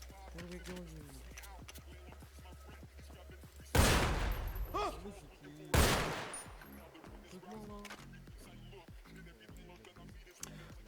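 Gunfire in a Westland video game market robbery, two loud sharp bursts of shots standing out over ongoing talk and game sound.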